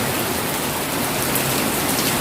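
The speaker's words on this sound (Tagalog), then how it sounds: "Lumakas na naman yung ulan." Heavy rain pours down steadily, a dense, loud, unbroken hiss close by with no pauses.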